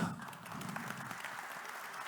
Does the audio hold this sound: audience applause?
yes